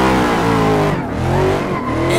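A Nissan 370Z Formula Drift car in the racing game Assetto Corsa, on a mountain run, with its engine revving hard and loud, dipping briefly between gear changes amid tire noise while drifting, with no talking.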